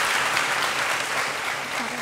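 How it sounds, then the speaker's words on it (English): Loud, dense round of applause from a conference audience, sustained evenly and heard close, with a faint voice underneath toward the end. "you deserve the round of applause"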